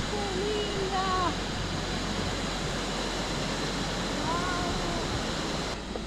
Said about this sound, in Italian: ci facciamo una bella doccia sotto la cascata, potente.